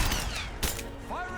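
Gunfire rattles during a Rise of the Tomb Raider combat encounter, dense overlapping shots with one sharp crack standing out midway, heard under a voice talking.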